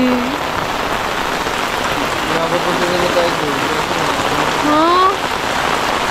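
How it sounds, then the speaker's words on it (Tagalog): Heavy rain pours down in a steady, loud wash on nearby surfaces, with voices talking briefly over it. "Ang lakas ng ulan."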